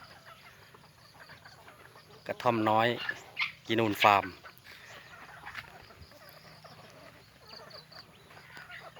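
Jungle fowl at Kinun Farm among Thai rice fields give two short, close, strident calls in quick succession, with only faint outdoor background before and after.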